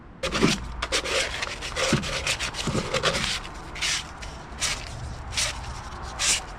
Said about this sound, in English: sand this down, clean it up a little